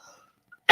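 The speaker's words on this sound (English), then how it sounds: "I have to cough." A single loud, close cough bursts out abruptly at the very end, after near silence broken only by faint murmuring.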